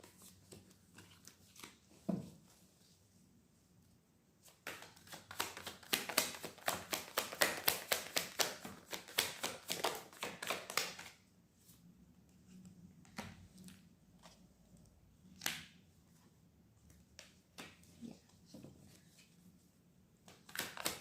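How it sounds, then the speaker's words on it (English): Tarot cards being shuffled in rapid, papery riffling bursts, a dense run in the middle with scattered softer taps and flicks before and after, close and quiet with no talking. "I'm going to put them back, shuffle again."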